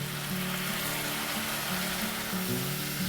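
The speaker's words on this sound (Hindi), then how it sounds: "अब इसमें डाला सिरका" White vinegar hits a hot pan with ginger, giving a steady, loud hiss and sizzle that runs unbroken for the whole few seconds with no voices.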